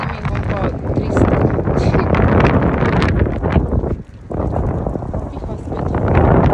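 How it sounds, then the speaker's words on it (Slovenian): Strong outdoor wind buffets the microphone almost continuously, loud and rough with a brief lull, while someone talks over it during a walk. "Piha spet."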